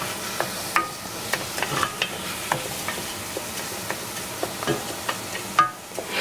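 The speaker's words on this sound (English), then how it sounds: "So I make sure I stir it well, and all the rice kernels are coated with the hot fat." Arborio rice being stirred in hot fat in a pan for Parmesan risotto, with repeated scraping strokes of a spoon against the pan over a soft, steady sizzle, close and alone.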